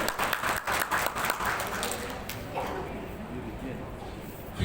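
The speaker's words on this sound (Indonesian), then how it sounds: "Tepuk tangan untuk beliau." A seated audience at a community briefing on an elderly welfare regulation in Bekasi applauds a ministry director: dense, close clapping that is loudest at first, then softens into a steady patter while voices talk over it.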